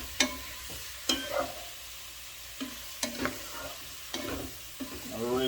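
Jamaican peppered shrimp, shell-on, frying in a pan, giving a steady sizzle with several sharp spatula clacks and stirring scrapes spaced a second or so apart.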